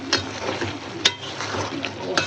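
Stalk vegetable curry sautéing in hot oil in a pan, a steady soft sizzle with a few sharp scraping stirs of a spatula, close and fairly quiet.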